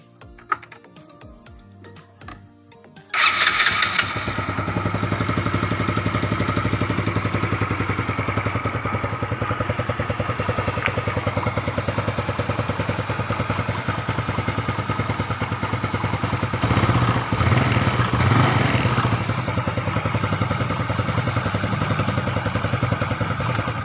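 A repaired motorcycle, its former leaks fixed, starts up after a few seconds of quiet and settles into a steady, fairly smooth idle with a light mechanical clatter that runs on loud and close, with no voices.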